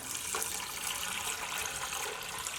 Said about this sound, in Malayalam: ഇനി നമ്മുടെ കടല വേവിച്ചെടുക്കാൻ വേണ്ടിയിട്ട് വെള്ളം ചേർക്കുക.